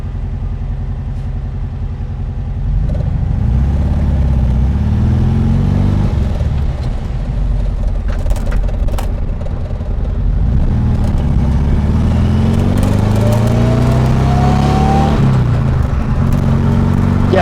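Supercharged 1600cc Volkswagen air-cooled engine in a Karmann Ghia revving hard under full throttle, a loud continuous drone that climbs in pitch as it pulls, with a supercharger whine rising over the engine note.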